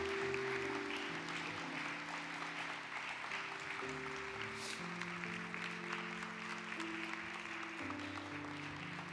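A church congregation applauds during a dedication and ordination thanksgiving service, a steady wash of clapping that fills the room while organ or keyboard chords sustain underneath throughout.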